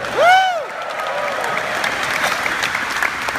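A conference crowd at Mike Rowe's CiscoLive 2015 closing keynote opens with a sharp rising whistle. Steady, dense applause and cheering follow and fill the room at an even level.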